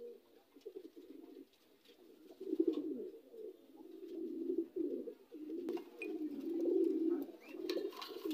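Homer pigeons kept for sale cooing in repeated soft, throaty bursts, several overlapping calls rising and falling close by, with faint background noises between them.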